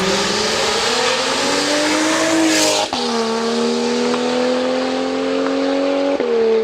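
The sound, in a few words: BMW 335i engine revving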